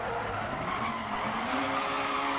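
Tyres skid loudly around a tight gravel hairpin as a powerful rally car scrabbles through the corner in DiRT Rally, the engine roaring steadily with no speech.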